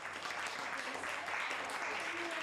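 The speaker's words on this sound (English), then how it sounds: "Please give them a round of applause." An audience at an intellectual disability forum applauds a panel, a dense continuous wash of clapping that fills the whole moment at steady volume.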